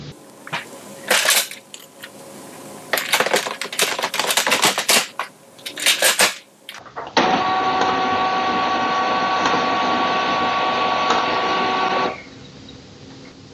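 An HP LaserJet MFP printer running after being powered on: bursts of clattering mechanical clicks and rattles, then a steady loud whirring motor hum for several seconds before it stops, close up with no talking.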